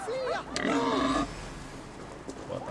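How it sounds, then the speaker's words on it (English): Cartoonish pig oinks and grunts from a video game, a short burst of squealing snorts up close, with voices talking around them. "Piggies!"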